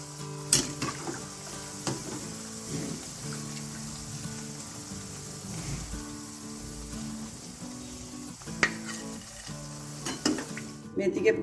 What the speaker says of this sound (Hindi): थोड़े हमारे फ्राई हो गए हैं, अब हम इनको निकालते हैं।